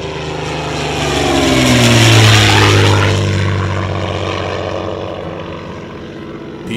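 WWII-era propeller combat airplanes of the 1940s such as the P-51, P-47 and B-25, an engine roar swelling to a loud nearby pass with a falling drone, then fading away.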